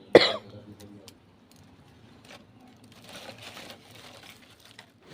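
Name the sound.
coughing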